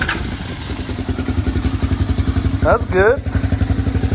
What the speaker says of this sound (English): This old 250SX runs.